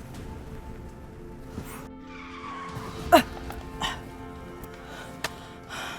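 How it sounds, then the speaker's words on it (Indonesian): A bus brakes hard and its tires skid with a short squeal at mid-clip, over a low engine rumble and a few faint background knocks. "Kenapa ngerem mendadak begini?"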